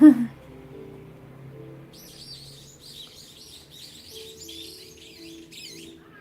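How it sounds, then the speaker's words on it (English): Loud birds chirping and calling outdoors, a brief burst of high, fluttering tweets repeating over several seconds as a flock passes by close, with a faint low hum underneath. "Oh, that is a loud bird."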